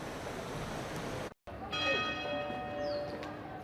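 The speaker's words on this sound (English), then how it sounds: "With every toll of the bell" A church bell at St. Peter's Basilica tolls with long ringing overtones after a brief cut, heard fairly clearly over a soft hiss of background noise.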